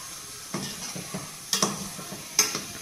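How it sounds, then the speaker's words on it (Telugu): A utensil stirs organic jaggery melting in a pan with a faint sizzle, giving three or four distinct scraping clinks against the metal spaced about a second apart. "ఇది ఇట్లా బెల్లం కరిగేదాకా కలుపుకోవాలి"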